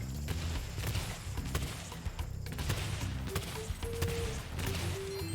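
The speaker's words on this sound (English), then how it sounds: "I believe there's a cannon on top of the ship." Repeated sharp booming cannon shots from atop a ship in the video game Spyro Reignited: Year of the Dragon ring out amid clanking game noise and a rumbling low backdrop, irregular and fairly loud.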